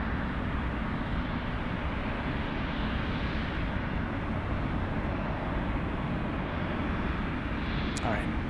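An airliner departs from runway 15 with a loud, steady broadband engine roar that holds constant throughout, heard from nearby outdoors.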